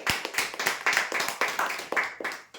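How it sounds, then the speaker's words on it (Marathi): A small crowd claps for a prize winner at a weekly lucky draw, a run of close, sharp, slightly uneven hand claps with no cheering, fading out briefly near the end. "झटका मशीनसाठी जोरदार टाळ्या"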